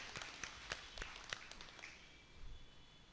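A church congregation at a novena mass for Saint Anthony applauds a doctor: faint, distant scattered clapping that quickly fades to quiet.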